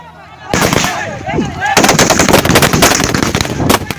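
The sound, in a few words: machine gun fire from M60s and Galil rifles in video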